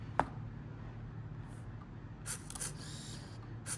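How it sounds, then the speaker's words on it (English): A Kyocera Lynx 90 film camera in continuous shooting mode gives one sharp shutter click, then a quick cluster of mechanical clicks and winds, and a final click, all close-up in a quiet room. "you see if I didn't release the shutter, it will keep shooting"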